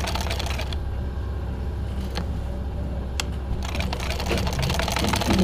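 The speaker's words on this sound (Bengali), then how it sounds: "পুরো পাতায় সেলাই দিয়ে নিলাম।" A sewing machine runs steadily as it stitches ladies' pants, its close, continuous mechanical whir carrying on without pause and growing slightly louder near the end.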